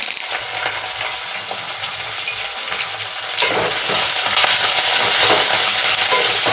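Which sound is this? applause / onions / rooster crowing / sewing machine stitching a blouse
onions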